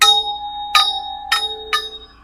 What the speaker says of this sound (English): And so we have the large chimes.